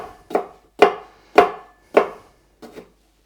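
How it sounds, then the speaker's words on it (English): A knife slices leftover cucumber bits on a cutting board, making five crisp, evenly spaced chops up close, the last one softer, with no voices. "these leftover bits I'll just cut into slices"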